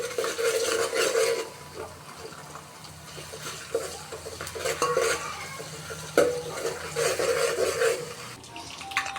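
A spoon stirs ginger garlic paste in a cooking pan, scraping and clinking steadily over a faint sizzle, close and fairly loud with short pauses between strokes.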